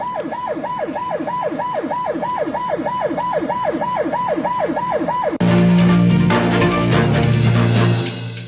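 An ambulance siren wails in a fast, steady up-and-down cycle, loud and near, for about five seconds before it cuts abruptly to a different loud, noisy scene.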